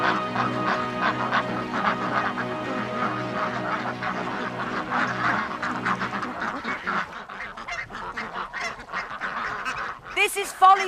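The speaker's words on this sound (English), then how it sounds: "Lots of ducks and geese live here." Geese and ducks at Folly Farm honk and quack in a busy, overlapping chorus, several birds calling close by, the calls thinning slightly near the end.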